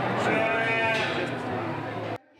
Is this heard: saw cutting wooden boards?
no